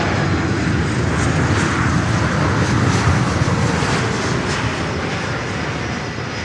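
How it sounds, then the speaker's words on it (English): A cargo jet landing at Miami airport, its engine roar loud and continuous throughout, broad and steady, with no voices. "Cargo jet coming up here."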